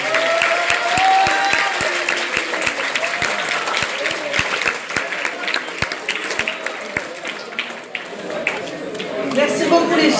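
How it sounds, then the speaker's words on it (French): Audience applause fills a conference hall, steady and strong for about ten seconds, with scattered louder claps and a voice talking faintly over the crowd. "on peut les applaudir bien fort pour ce travail"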